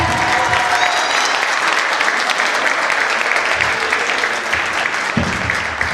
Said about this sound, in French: Est-ce qu'on peut applaudir Maryse, s'il vous plaît?